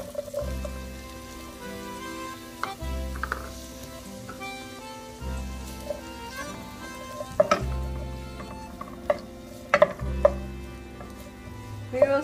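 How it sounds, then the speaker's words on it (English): Onion sautéing in a pan for mushroom risotto, a soft steady sizzle close by with scattered stirring clinks and tapping, no voices, while a low hum carries underneath throughout. "Now we're going to sauté the onion."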